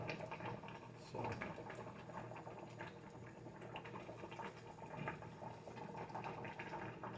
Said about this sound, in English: Now what you hear over here boiling